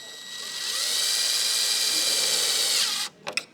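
A power drill drives a screw into a gloss black rear spoiler on a Mercedes-Benz A-Class, whining steadily and close for about three seconds before stopping, followed by a few light clicks.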